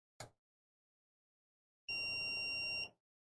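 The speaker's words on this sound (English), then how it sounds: "it just beeped for 1 second" The small beeper on a Raspberry Pi Pico sensor kit sounds one steady electronic tone lasting about a second, clear and close, after a short faint click, with silence around it.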